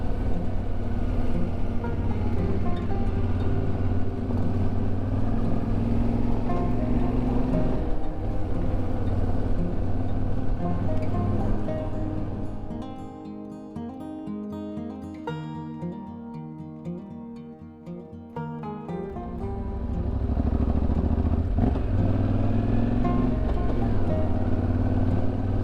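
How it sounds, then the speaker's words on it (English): A motorcycle engine drones steadily while riding through scenic Morocco, dipping to a quieter, lower rumble midway before swelling back to full volume. "Volume down on the motorcycle."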